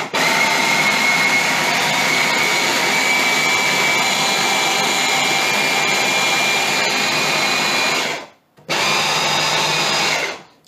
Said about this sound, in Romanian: Măcinăm, măcinăm, măcinăm până când iese uleiul din alune.